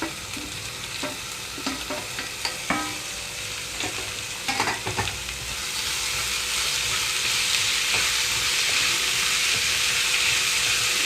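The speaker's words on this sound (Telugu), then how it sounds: "మూత పెట్టకుండా వేయించుకుంటున్నాను కొంచెం సేపు" Ivy gourd pieces and onions frying in an uncovered pan, with spatula scrapes and clicks in the first half before the sizzle swells into a loud, steady hiss.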